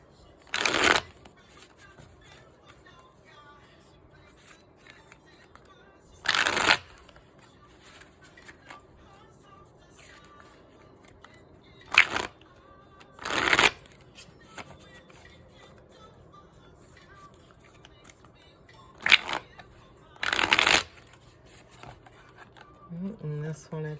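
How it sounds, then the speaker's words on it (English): Tarot card decks are shuffled in several short, crisp riffling bursts spaced a few seconds apart, close up against quiet room tone. "I'm going to shuffle just a few more times and split the deck"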